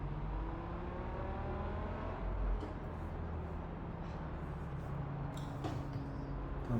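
A car engine in a video game revs and accelerates, its pitch climbing in rising sweeps and then falling back, with the loud motor running throughout and brief clicks near the end.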